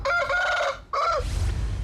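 Two drawn-out chicken calls close by, the second shorter, with some low rustling noise after.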